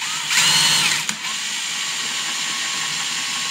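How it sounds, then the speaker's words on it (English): Power drill boring holes into the plastic of a snorkel kit for a 2020 CFMoto CForce 600, a short loud high whine that cuts off, followed by a quieter steady motor hum. "It's time to drill a couple holes in the plastic."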